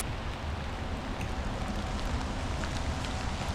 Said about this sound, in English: it's currently pouring down rain right now